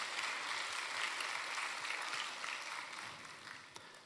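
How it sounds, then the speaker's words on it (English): A church congregation applauding, a fairly faint, dense patter of many hands that tapers off gradually toward the end. "Let's all give them a clap of applause."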